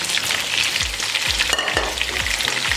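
Steady, crackling sizzle of whole spices (cloves, black peppercorns, star anise) frying in hot oil for biryani, close and continuous, with soft periodic stirring thumps underneath.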